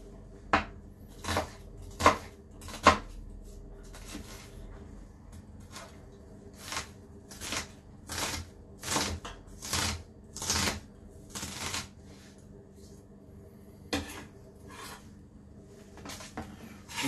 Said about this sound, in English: so my onion and my garlic are chopped